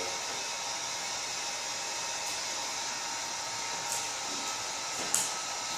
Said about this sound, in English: I like to just use the heat gun to do point heating